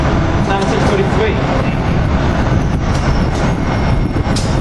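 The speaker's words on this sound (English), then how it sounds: "cab car 9643 leading this train into 30th Street" An Amtrak Keystone passenger train with cab car 9643 leading, heading into 30th Street, a loud continuous rumble of rail cars passing close by with broadband wheel and wind noise throughout.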